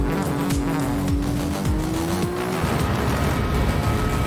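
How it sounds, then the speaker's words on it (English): Engines of race cars in Gran Turismo 7 whine and drone steadily as a road car overtakes a Nissan Skyline before a hairpin, with a rising engine tone sweeping over a dense, continuous roar. "We overtake the Skyline, moving up into 2nd, right before the hairpin."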